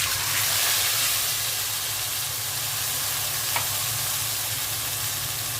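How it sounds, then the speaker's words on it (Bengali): Blended onion and tomato are frying in oil left over from frying fish. A steady, dense sizzle holds throughout, close and even, with one small clink partway through. "পেঁয়াজ আর টমেটো ব্লেন্ড করে রেখেছিলাম দিয়ে দিচ্ছি।"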